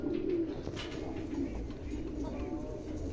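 A pair of white lakka fantail pigeons gives soft, low, rolling coos, close but quiet, with faint background noise throughout.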